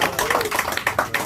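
Audience applause at an album listening event in NYC, a short burst of brisk, choppy clapping from a nearby crowd, fairly loud and steady throughout.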